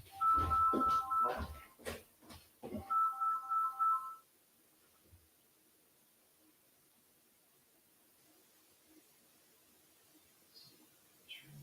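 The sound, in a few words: phone ringing from a spam call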